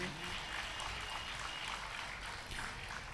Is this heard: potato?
no